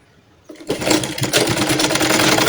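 A sewing machine starts up after a quiet moment and runs continuously, stitching a baby girl's butterfly-sleeve top with a close, steady whirring rattle and no talk.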